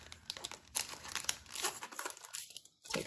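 A cellophane bag crinkles close and clear as a detailed die cut is unwrapped, a run of sharp, irregular rustles and crackles with no talk.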